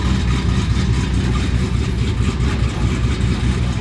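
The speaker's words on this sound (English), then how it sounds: "When we first fired this engine up, this thing sounded real healthy." A car engine runs at a steady, rumbling idle up close, deep and throaty with a constant low-pitched chug.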